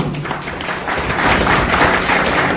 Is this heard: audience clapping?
yes